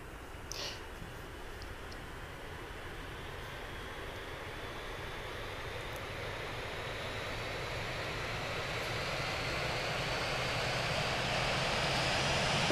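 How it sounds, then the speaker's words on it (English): Airbus A319 jet engines running in a flight simulator, a steady broadband roar that slowly builds in loudness, with a faint whine and no speech. "Engine 1 is good, engine 2 is good."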